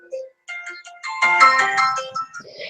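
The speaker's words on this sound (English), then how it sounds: "Sorry, my phone's ringing." A mobile phone ringtone plays a short bright electronic melody, loud and close, a few separate notes and then a denser burst of tones, with nobody talking.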